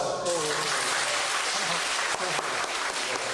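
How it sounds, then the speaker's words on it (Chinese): An audience at a catering-team training camp bursts into applause, a dense, even clapping that fills the whole short moment. "大家就掌声鼓励"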